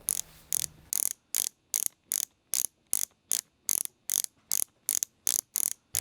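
Someone turns the inset adjustment screw on a Toyota headlight bucket fitted with a JW Speaker 8800 low beam. Sharp ratcheting clicks repeat in an even rhythm, about two per second, close and loud, with no voices.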